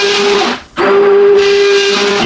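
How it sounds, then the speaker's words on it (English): An immersion blender purees leftover Thanksgiving pie crust with a steady, loud motor whine that drops out for a moment before running on again. "You can use a blender, you can use a food processor, but I like my immersion blender."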